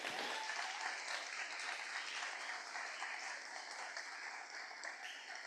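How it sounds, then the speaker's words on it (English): Audience at a startup pitch competition finals giving the presenters a round of applause: a dense, even wash of many hands clapping, heard from a distance at low volume and sustained throughout. "So let's just give them all one more round of applause."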